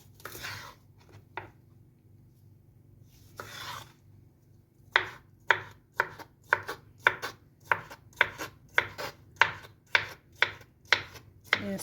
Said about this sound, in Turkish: şu şekilde doğrayabiliriz.